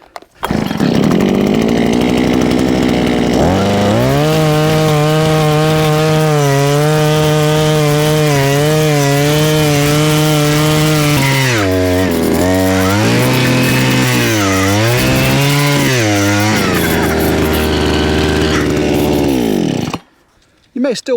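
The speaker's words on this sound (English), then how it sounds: "Now we're gonna finish our 4-foot hole up with this 8-inch auger." Gas-powered 8-inch auger boring a post hole for a mailbox, its engine roaring loud and close, steady at first, then lugging and revving up and down as it bites into the soil before cutting off abruptly.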